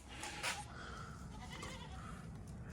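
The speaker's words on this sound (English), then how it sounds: "There's the goat, a loud ass goat out there." A loud goat bleating outdoors near a workshop, one strong nasal bleat early on followed by fainter wavering calls over a steady low background hum, with a short thump at the end.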